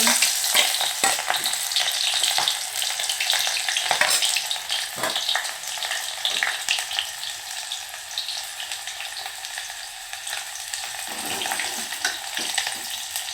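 Garlic and onions frying in hot oil in a pan, a steady bright sizzle running throughout with occasional stirring scrapes, close and fairly loud.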